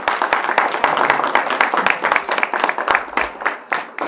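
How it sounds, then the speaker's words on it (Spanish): An audience at a PythonDay México 2018 talk claps warmly, a dense burst of applause that is loud at first and thins out toward the end. "recibámonos con un fuerte aplauso."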